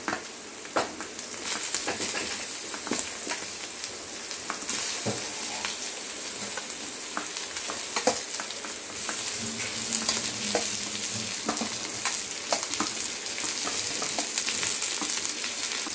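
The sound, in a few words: chicken pieces frying and stirred with onions in a kadai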